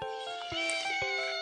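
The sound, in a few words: cat meowing in a children's zoo rhyme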